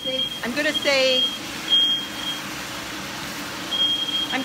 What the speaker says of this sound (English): say good night while we get the smoke alarm dealt with